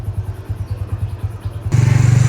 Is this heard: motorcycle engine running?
yes